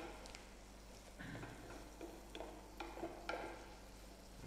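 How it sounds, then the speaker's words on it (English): A spoon stirs orzo with onions and garlic in a pot, giving faint scraping and soft clinking strokes with a quiet sizzle underneath, and no voices. "Just mix it around so that it spreads evenly, coats the onions and the garlic."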